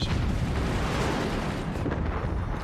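Dense, rumbling explosions roll on continuously in a video game, a thick wash of booming blasts including secondary explosions, with no clear gaps and no voices.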